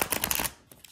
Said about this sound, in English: I love shuffling these Llewellyn decks